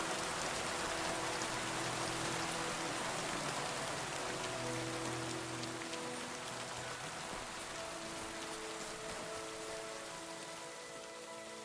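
Steady video game rain in Kingdom Come: Deliverance 2 pours down without a break, a dense hiss of drops on surfaces, fairly quiet and even throughout.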